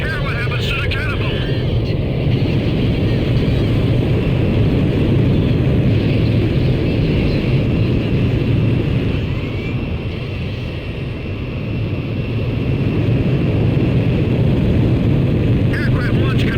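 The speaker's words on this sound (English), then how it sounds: "Aircraft launch confirmed." In the Ace Combat 5 video game, a jet launches off a carrier catapult, a loud, steady roar of aircraft engines filling the whole stretch, with brief higher mechanical tones near the start and end.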